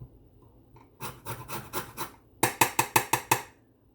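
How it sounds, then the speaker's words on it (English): Lemon rind grated for a cheesecake with a Nilla cookie crust, heard as rhythmic rasping strokes against the grater, a softer run of about five followed by six sharper, louder ones, close up with no talking. "I'm just going to grate a little bit more."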